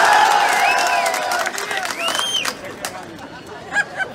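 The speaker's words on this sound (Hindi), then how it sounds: "ठोको ताली।" Crowd at an outdoor political rally in Bilaspur, India, clapping and cheering in a steady wash of mixed noise with babble and whistles, fading somewhat after the first couple of seconds, with a few louder bursts near the end.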